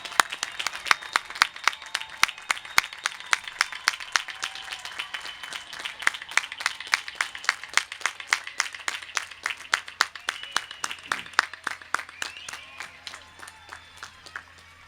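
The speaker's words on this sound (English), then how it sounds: "Let's give them a big round of applause." At a college commencement ceremony for the class of 2021, the audience claps for the graduates: sharp individual claps ring out close by over broader crowd applause, continuing for about fifteen seconds and thinning toward the end.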